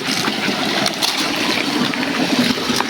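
Continuous rushing and trickling river water, loud and close, fills the whole stretch with a dense, even texture and no talking.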